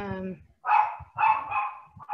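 A dog barks in quick repeated bursts close by, following a short stretch of a human voice.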